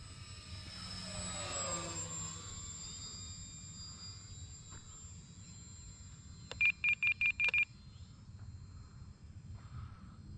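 A small RC model L-19 Bird Dog airplane's engine drones steadily at a distance, rising and fading, with a quick run of five electronic beeps partway through.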